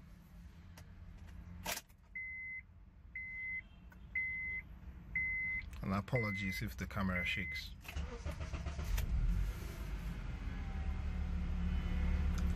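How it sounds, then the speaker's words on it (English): A few electronic chimes sound, then a car engine with a freshly cleaned idle air control valve cranks and catches, settling into a steady idle rumble; someone speaks briefly near the start. "So I'll go ahead to start the car."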